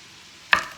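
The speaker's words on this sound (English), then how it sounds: "get a knife cut up however much onion you want" A single sharp knife chop through onion on a cutting board, one close crisp strike that fades quickly over quiet background.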